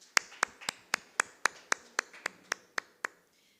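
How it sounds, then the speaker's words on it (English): About a dozen crisp, evenly spaced hand claps ring out for Liesl at an entrepreneurship regional event, each sharp and distinct with a short room echo, keeping a steady beat before stopping. "Can we give her another applause, and also for the sponsorship of those?"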